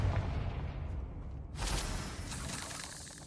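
A Confringo fire spell explosion in the video game Hogwarts Legacy bursts in midway as a loud, broad whoosh and crackling blast, following a rumbling, roaring buildup.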